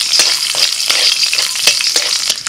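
Dried red chilies and whole garlic cloves fry in hot oil in a wok, a steady close sizzle broken by repeated crackles and soft stirring scrapes, with no talking.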